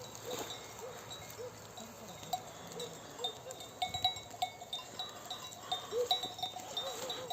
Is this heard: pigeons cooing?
no